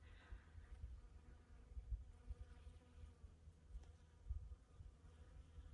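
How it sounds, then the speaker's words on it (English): Many small bees buzz steadily around blooming mistletoe on a desert mountainside above Valley of Fire in the Muddy Mountains, Nevada, a soft continuous hum with faint wind and no talking. "Lots of little bees."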